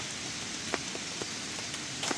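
Heavy rain falls on a mountain forest camp, a steady patter with scattered louder drops striking a nearby surface, fairly faint and without speech.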